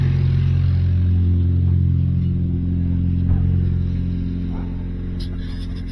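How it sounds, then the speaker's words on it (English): An AMC Gremlin engine with a suspected misfire idles steadily after a brief warm-up, a loud close low rumble that eases slightly toward the end. "We got the engine idle up, and we got it just warmed up just a little bit."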